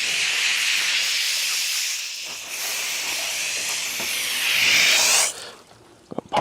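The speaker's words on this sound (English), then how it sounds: "We're just gonna hit it with some water first, for starters." Water sprays in a steady hiss onto a Toyota Corolla during a wash, sounding close and strong for about five seconds before cutting off, followed by a few faint knocks.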